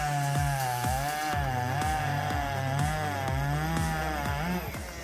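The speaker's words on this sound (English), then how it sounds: "I'm sure you'll love this giant chainsaw woodcutting demonstration." A giant chainsaw cuts through wood at a demonstration in front of onlookers, its engine whining loud and continuous with a wavering pitch that dips and rises as the chain bites.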